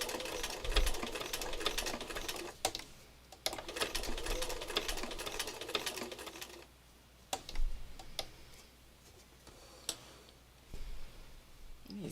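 A sewing machine stitches pinned fabric in a steady, fast ticking rhythm, close and fairly quiet, then slows into scattered clicks and pauses as the presser foot is held in place.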